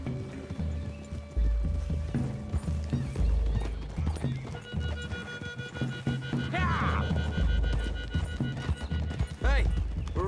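Horses' hooves clip-clop on ground in a western video game set among trees, with whinnies and steady trotting rhythm mixed under characters' dialogue and game music.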